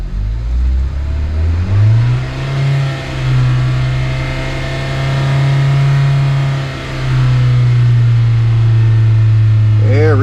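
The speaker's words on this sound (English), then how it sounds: "So let's rev it on up." A Hyundai engine with a P0420 catalyst efficiency fault revs up from idle and holds a steady, loud, close drone that dips once midway and then climbs again, with a voice talking over it near the end.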